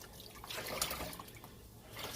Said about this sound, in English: we're just going to keep kneading it until the water runs clear